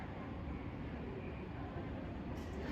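Interior of a Toki Shinkansen bullet train in Japan, with a steady, low, muffled rumble of the moving carriage and faint hiss throughout, no voices.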